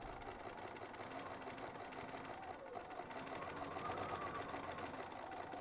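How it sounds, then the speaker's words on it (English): Steady, faint whirring of a sewing machine running continuously while stitching a quilt seam on a mashup medallion block, a soft constant hum with no pauses. "And now we can just get sewing."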